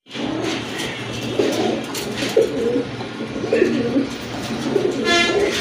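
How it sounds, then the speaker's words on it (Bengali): A pair of pigeons, male and female, coo with deep rolling calls in repeated bursts, near and clear over a light background hum, with no speech. "ডান পাশে এটা মাদি কবুতর, আর এই যে বামে এটা হচ্ছে নর কবুতর"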